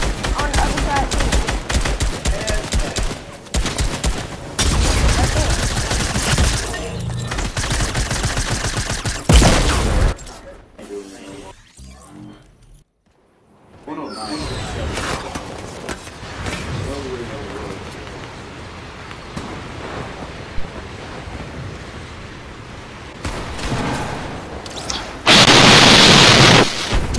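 Gunfire in Fortnite as players shoot floor traps, rapid loud bursts and sustained volleys with a brief quiet gap midway, while people talk over the shooting.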